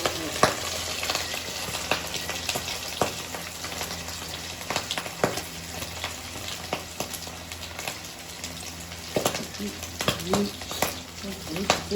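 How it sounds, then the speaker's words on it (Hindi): Chicken frying in hot ghee, KFC-style spicy crispy fried chicken, gives a steady close sizzle with scattered sharp pops and crackles throughout, loud and continuous with no voices over it. "घी हो गया मेरा गरम, तो अब जी हम डालते हैं घी में।"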